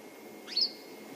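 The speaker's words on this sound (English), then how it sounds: "a pied wagtail that you could hear going" A pied wagtail gives a single brief, sharp chirp on a safari drive, faint against quiet outdoor background hiss.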